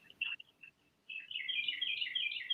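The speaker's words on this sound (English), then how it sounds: "You have a bird tweeting in your background" A single bird tweets in the background behind a video call during a lightning storm, giving a few short chirps and then a longer run of bright, rapid trilling notes. The calls are moderately faint and come without speech.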